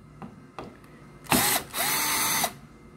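A power drill backs screws out of a kitchen countertop cabinet being converted into a bedroom dresser: two light clicks, then a short whirring burst and a longer steady run, loud and close.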